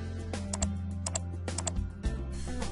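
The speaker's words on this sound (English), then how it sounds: "on your keyboard hit Control or Command E" Keys on a computer keyboard are struck in a few short groups of clicks, with the steady hum of a desk setup behind them and no talk.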